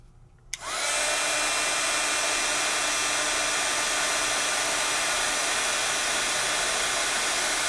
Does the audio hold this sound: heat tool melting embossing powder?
yes